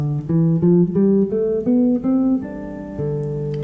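A guitar plays a D Dorian scale up one octave, minor-sounding, single plucked notes in an even rhythm, the final note left ringing.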